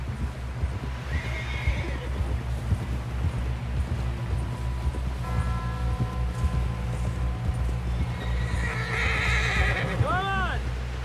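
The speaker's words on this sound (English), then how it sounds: "Someone help John down off this horse." Hooves clip-clop in a fast rhythm while horses whinny and neigh in Red Dead Redemption 2, with voices talking over the action and a rising whinny near the end.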